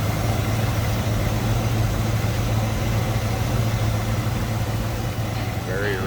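A 1968 Ford Mustang Sprint hardtop's engine idles smoothly and steadily, a low even hum close by that holds level throughout with no revving.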